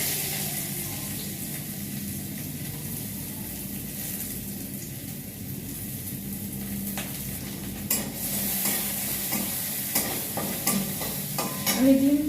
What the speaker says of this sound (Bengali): রসুন আর আদা কুচি ওইটা দিয়ে দেবো আগে ওইটা একটু ভাজা ভাজা করে